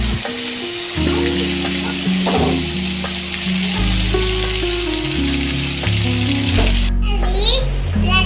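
Coconut and mint paste hits hot oil with a bright, steady sizzle, close and continuous, with music playing underneath throughout.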